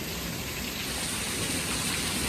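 Heavy rain pours down in a steady, dense, unbroken roar that fills the whole stretch, close and loud with no voices.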